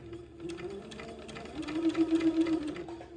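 A sewing machine stitches the seam of an old-fashioned baby gown in a short close burst, its motor humming steadily and growing a little louder and faster midway.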